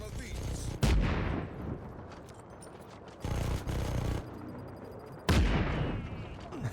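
Three loud bursts of gunfire from Just Cause 3, each a sharp blast followed by a rattling volley and a decaying tail, with softer in-game noise in between.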